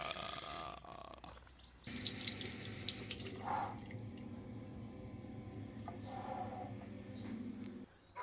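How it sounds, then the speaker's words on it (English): Hot water runs from a tap in a public toilet as a steady, quiet splashing stream into the basin for about six seconds before stopping. "normally the hot tap in these toilets is just ornamental, but that was hot water"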